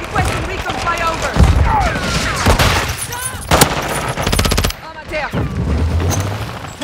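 Rapid automatic gunfire and bursts from a Call of Duty match, loud and close, with shots clustered in dense volleys over a busy battlefield mix while radio-style voices talk over it.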